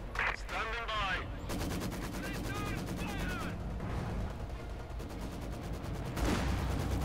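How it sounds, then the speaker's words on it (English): Gunfire crackles during a Company of Heroes 2 1v1 match, as rapid machine-gun bursts and single shots ring off a dead tree near a building, loud and continuous under a commentator's voice. "Shots bouncing off a dead tree for the larger part"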